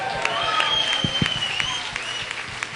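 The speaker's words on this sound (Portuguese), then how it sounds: "Aleluia, dê um aplauso ao Senhor." Applause from a church congregation after worship singing, a moderate, steady patter of many hands with a few louder individual claps, while voices and sustained tones carry on faintly over it.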